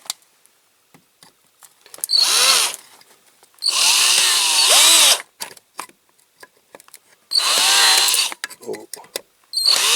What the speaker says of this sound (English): I think I'm going to have to drill some more of that.